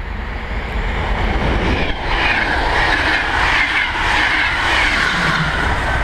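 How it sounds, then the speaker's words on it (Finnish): A train runs past on the rails outdoors, a steady loud rumble with rattling wheel noise and a brief squeal, continuous from start to finish with no talking. "No niin, nyt sitä juna tulee."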